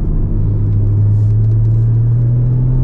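A 2014 Porsche Cayman base model with PDK gearbox on a track test, a loud, steady low engine drone that holds an even note, heard from inside the cabin without any speech.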